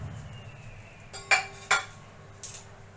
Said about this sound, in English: let's cut this pizza now